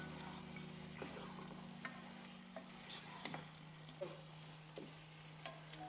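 Chicken with lime juice and curd sizzles steadily in a pan, with a constant low hum and occasional light scrapes and taps of a spoon stirring the mixture, close and fairly quiet.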